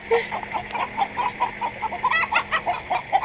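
A hen clucks repeatedly after laying an egg, in a lively, insistent rhythm, the calls rising into louder squawking bursts; other fowl may murmur faintly nearby.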